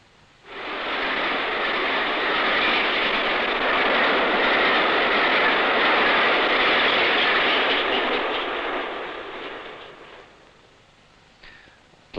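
A 1960s diesel-electric locomotive hauling an express train emerges from a tunnel portal on the Settle to Carlisle line, a loud sustained roar building quickly, holding steady for about nine seconds, then fading away, with no voices.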